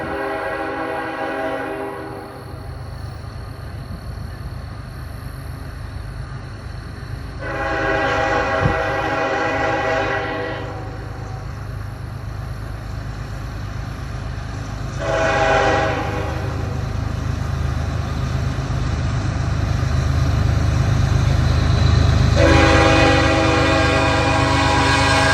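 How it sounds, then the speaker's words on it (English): A freight train of auto racks hauled by a long-hood-forward GE Evolution locomotive sounds its horn in three long blasts at regular intervals, with a steady rumble of rolling cars underneath throughout. "this cut of auto racks is being pulled by a long hood forward Gevo."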